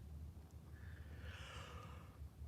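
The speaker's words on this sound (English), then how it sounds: "Sorry you caught me mid yawn." A quiet drawn-out yawn from a person awake late during a 24-hour live-stream fishing challenge, rising into a breathy sigh-like exhale over a low background hum.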